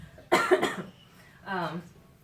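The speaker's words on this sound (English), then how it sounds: "So forgive me for coughing." A person recovering from a cold lets out a sharp burst of close coughing, followed after a short pause by a brief voiced throat sound.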